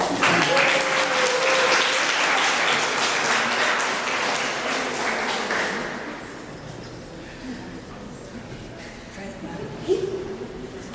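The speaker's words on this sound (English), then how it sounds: "he needs 2 rounds of applause" Applause from an audience at a 2014 art exhibition, loud and dense for the first six seconds, then thinning to scattered claps with voices murmuring underneath.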